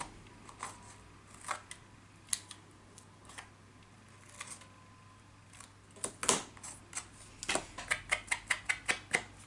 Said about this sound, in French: Je vais venir recouper les bords.